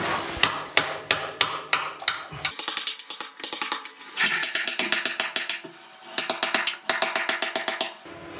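Drill boring a hole with an insert clogging it, producing rapid rattling, hammering clatter in uneven bursts, loud and close, with a brief pause partway through and no talk.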